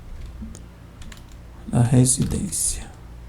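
A short burst of keyboard typing, several quick clicks close by, with faint background voices and a brief murmur before it.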